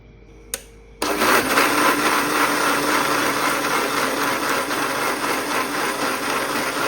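A mixer grinder switches on after a brief knock and runs loud and steady, whirring as it grinds soaked sago, continuous until the end.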